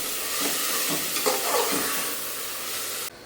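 Tomatoes fry in hot oil with a steady bright sizzle, while stirring and mashing add a few soft scrapes and thumps. The sizzle cuts off abruptly near the end.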